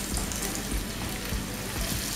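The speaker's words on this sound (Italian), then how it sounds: "E poi le andrò a friggere non appena l'olio sarà pronto." Sliced potatoes fry in hot oil for sandwich-style sandy potatoes, giving a steady, dense sizzle and crackle that fills the whole short stretch, close and even, with no talking.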